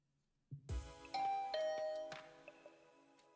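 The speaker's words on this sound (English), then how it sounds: "Started to furiously ring the bell. Ding dong!" A doorbell in The Hundred Line: Last Defense Academy video game rings with a clear two-tone chime after a brief thump, followed by fading ringing overtones, alone without talk.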